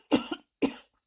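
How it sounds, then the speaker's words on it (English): A person coughs hard twice during a live card-reading stream, a double hack followed by a single cough, close and loud with nothing else behind it. "I'm just having a coughing fit here"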